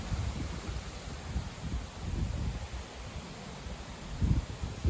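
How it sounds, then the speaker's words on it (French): Strong gusting wind tossing the leaves of ash trees outdoors, a steady broadband rush with louder surges near the end, no voices. "Vraiment un vent fort."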